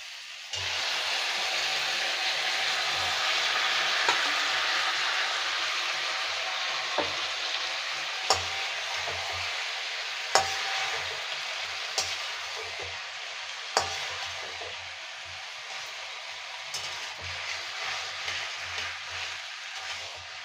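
Malabar spinach and vegetables stir-fried with shrimp in a pan, Bengali village-style, producing a loud, continuous hissing sizzle broken by sharp utensil clicks and taps against the pan.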